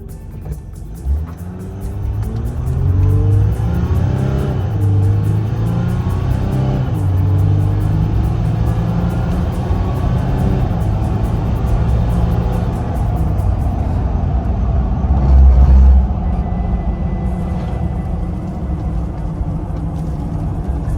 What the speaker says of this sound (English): Take it for a test drive.